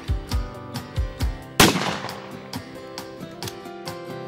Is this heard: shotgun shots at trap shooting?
yes